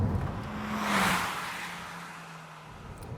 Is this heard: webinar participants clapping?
no